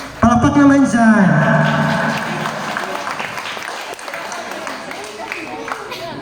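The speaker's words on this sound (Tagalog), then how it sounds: "A round of applause, please." Guests at an 18th birthday celebration at a resort applaud after a traditional waltz, with a loud swell of clapping that tapers, accompanied by a voice and crowd chatter.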